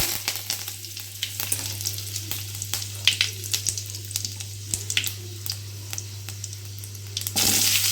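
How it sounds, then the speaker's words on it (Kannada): Mustard seeds, cumin and curry leaves crackle and sizzle in hot oil with sharp, irregular popping over a steady frying hiss, close and continuous, louder at the very end and with no talking. "ಈಗ ಎಣ್ಣೆ ಕಾಯ್ದೈತಿ, ಸ್ವಲ್ಪ ಸಾಸಿವೆ ಹಾಕ್ಕೊಳ್ಳೋಣ, ಜೀರಿಗೆ ಹಾಕ್ಕೊಳ್ಳೋಂತ 1 ಚಮಚ, ಕರಿಬೇವು ಹಾಕೋಣ"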